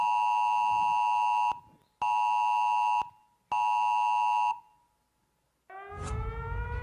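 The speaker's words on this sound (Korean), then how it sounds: "기상청에서 주민들에게 지진 발생 긴급 재난 문자를 발송하였습니다." Three long, loud electronic beeps of an emergency earthquake disaster text alert sound during a county disaster-response drill in Yecheon, South Korea, followed by a rising, warbling alert tone.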